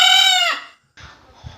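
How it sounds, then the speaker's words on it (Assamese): A chicken crows loudly and close, one drawn-out call that fades after about half a second, followed by a brief pause and then low background noise with faint rustling. "সাধাৰণ মুৰ্গী এটাই কেনেদৰে আল্লাহৰ নাম লৈছে"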